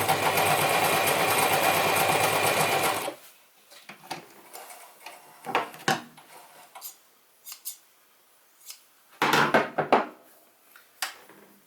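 Vintage Gritzner 1002 or Pfaff 307 sewing machine running a zigzag stitch: a loud, steady mechanical whir for about three seconds, then stops, followed by scattered clicks and knocks of handling.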